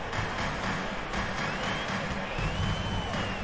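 A basketball arena crowd in the video game NBA 2K23 roars and cheers steadily, a dense, loud wash of voices and applause that holds level throughout, with a commentator's voice faintly under it.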